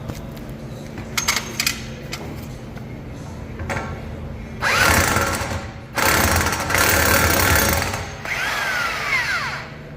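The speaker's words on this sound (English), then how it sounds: "I'm actually gonna finish it off with the impact." An impact wrench tightening a bolt on the rear suspension of a 2005 fourth-generation Toyota 4Runner, with several loud whirring, hammering bursts after lighter clinks of tools, close by in a shop.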